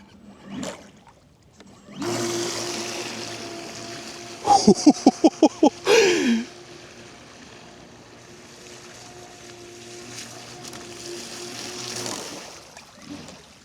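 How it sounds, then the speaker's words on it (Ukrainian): A remote-controlled fishing bait boat sets off across the water. It gives a steady motor hum that rises as it pulls away and fades to a low drone, with a brief burst of sharp clattering partway through. "Навіть при трьох спутниках ми можемо сміливо відправляти кораблик на покатушки"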